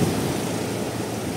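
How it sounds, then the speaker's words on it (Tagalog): Large ocean waves crash and surge in a loud, continuous roar of surf, with wind buffeting the microphone throughout. "Grabe na laki ng alon ah."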